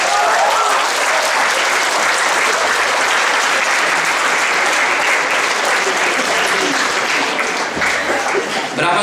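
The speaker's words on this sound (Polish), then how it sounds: "Brawa spełniają podwójną dobrą rolę" A lecture audience applauds the speaker with loud, sustained, dense clapping that fills the room without a break for the whole stretch.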